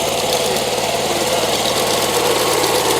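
Kubota tractor engine running steadily during a potato harvest, a loud, close, continuous mid-pitched drone with a faint knocking pulse and no break throughout.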